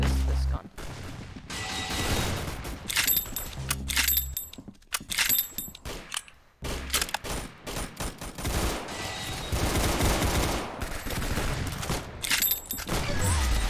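The peppermint rifle fires in the Roblox shooter Arsenal: a run of dense, crackling gunfire bursts broken by short pauses, loud and close, with impacts and clattering effects mixed in.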